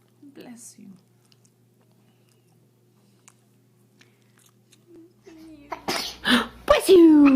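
A baby sneezes near the end after a mostly quiet stretch, the burst followed by a short whimpering vocal sound, loud and close.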